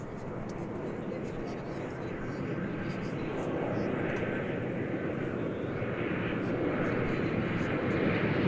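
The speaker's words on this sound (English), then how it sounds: "So again, Air Canada cargo landing all the way over on the east side." An Air Canada cargo plane landing on the east side of DFW Airport, a broad steady jet roar that swells gradually as it approaches, heard from a distance with faint talk beneath.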